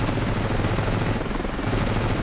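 Dense, continuous rapid gunfire in the Ravenfield video game as helicopters are shot down, with loud overlapping bursts and booms that never let up.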